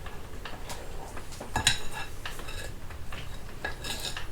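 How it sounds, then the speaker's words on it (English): Spoon scraping and clinking against a bowl while stirring peach cobbler batter with flour, a steady run of close, light strokes and taps with a few sharper clinks. "My flour's not all mixing in."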